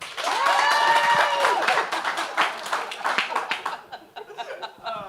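A live audience at a talk on freedom of expression claps and laughs. Scattered hand claps and chuckles run under an opening voice, then thin out into looser, quieter claps.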